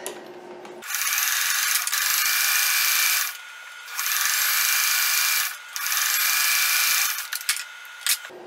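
A sewing machine runs a zigzag stitch along a shirt in three sustained, steady runs, loud and close, with brief pauses between them and no talking.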